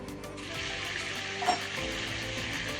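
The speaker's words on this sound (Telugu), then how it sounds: "బటర్ మెల్ట్ అయిన తర్వాత ఆనియన్స్ వేసుకోవాలి." Onions frying in melted butter and a little oil for a green chilli chicken dish, a steady close sizzle with light stirring and one brief louder crackle midway, no talking.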